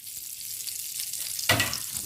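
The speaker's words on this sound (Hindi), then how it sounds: "काजू जो है मैं इस वक्त इसके अंदर डाल रही हूँ ताकि इसके साथ हल्का हल्का सा रोस्ट हो जाए।" Cashews sizzle in hot ghee for a halwa, a steady fry crackle that flares into a louder burst of spitting near the end, close and alone.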